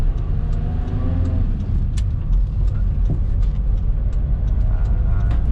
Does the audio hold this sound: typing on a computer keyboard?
no